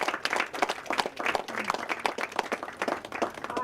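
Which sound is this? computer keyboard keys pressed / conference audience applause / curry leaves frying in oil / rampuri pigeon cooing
conference audience applause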